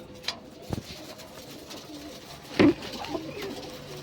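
A few soft, low coos from pigeons sitting in baskets, one fuller burst near the end, over a quiet hiss of background noise.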